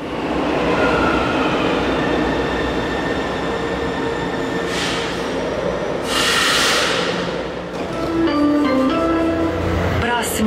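Subway train pulling into Liberdade station in São Paulo, a loud continuous rumble of rolling wagons with bursts of hissing and rising wheel squeal as it slows, close and sustained.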